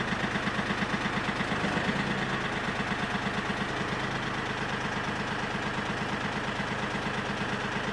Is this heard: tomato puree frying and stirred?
no